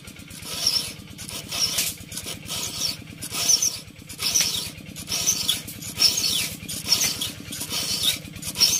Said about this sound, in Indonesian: Ini ada suara mesin traktor.